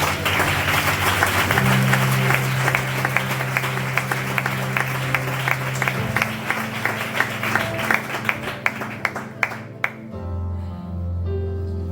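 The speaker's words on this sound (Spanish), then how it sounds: "Da un aplauso al Señor." A church congregation applauds steadily for several seconds over sustained organ or keyboard music. The clapping thins into scattered claps near the end, and the music then continues alone.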